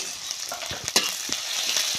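Onion hits hot oil already tempered with mustard seeds, cumin and garlic cloves, giving a close, steady sizzle with a few stirring clicks and crackles.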